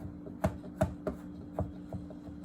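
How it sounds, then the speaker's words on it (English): Knife chopping vegetables on a cutting board while making meatless spaghetti, five or six quiet distinct knocks at an uneven pace over a low steady hum. "Chopping it really small."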